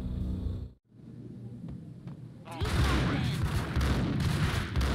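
Gunfire in Max Payne breaks out after a brief silence: a loud, dense burst of shots and impacts that continues steadily over a low rumble.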